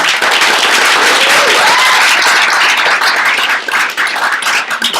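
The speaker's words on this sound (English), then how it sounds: "Give another round of applause for Ben" A crowd at a home event applauds loudly and steadily, a dense wash of clapping close by that holds for about five seconds and thins slightly near the end.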